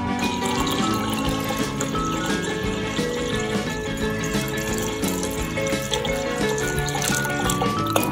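Water pouring steadily into a pot for a kaffir lime syrup, a continuous close rushing splash that holds at a fairly loud, even level throughout with no talking.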